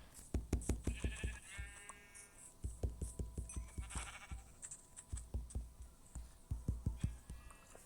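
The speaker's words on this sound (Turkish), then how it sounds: "Koyunlar kesim ki yemeğimiz olsun." Sheep bleat repeatedly in the Minecraft video game, the wavering cries sounding over steady rhythmic blocky footsteps and thumps, with several overlapping calls close by.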